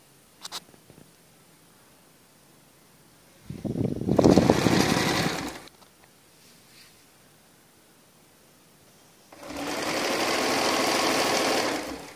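A sewing machine stitches folded fabric in two separate runs: a loud, steady burr of about two seconds, a quiet pause, then a second longer run, with no talking.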